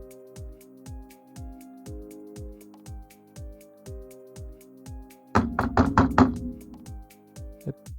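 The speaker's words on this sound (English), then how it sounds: "Is someone pounding on our door?" Loud, hard pounding on a door at a motel, a rapid burst of about five heavy knocks ringing out over a steady rhythmic tapping background beat.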